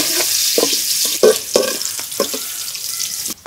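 Chopped onion fries in hot oil with a close, crackling sizzle, broken by several sharp scraping stirs of a utensil in the pan.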